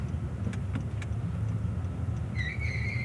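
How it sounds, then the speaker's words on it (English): Friday afternoon road traffic in Mexico, with cars passing in a steady low rumble of engines and tyres and a brief high squeal near the end. "Friday afternoon traffic."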